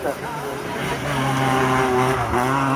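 A Peugeot 106 race car at a hill climb, its engine revving and rising through the gears as it pulls away, mid-distance and steady, under a commentator's voice.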